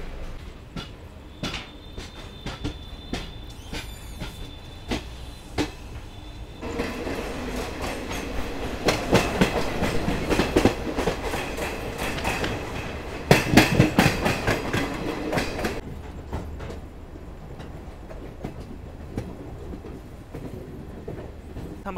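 Indian Railways Garib Rath Express (22410, Anand Vihar Delhi to Gaya) heard from inside an older coach at about 130 km/h: steady loud rumble with rhythmic clickety-clack wheel beats over rail joints, building to a denser, louder passage before easing, no talking.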